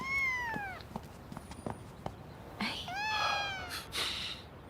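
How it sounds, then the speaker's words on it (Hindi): A cat meows twice, clear harmonic calls near the start and again later, with soft handling noises and brief clicks between them during an indoor drama scene. "आपने कभी बिल्ली नहीं उठाई?"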